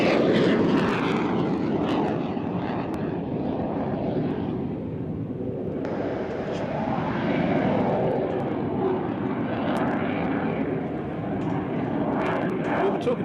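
A Hawk jet at an airshow roars steadily through a maximum rate turn, its loud whooshing engine noise swelling and shifting in pitch as it banks overhead.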